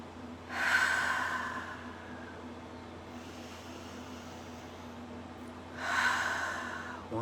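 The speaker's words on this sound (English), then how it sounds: "3 deep breaths, in and out." Two deep, slow breaths, each a long airy inhale-exhale swelling near the start and again near the end, with a quiet hushed stretch between them; no talking.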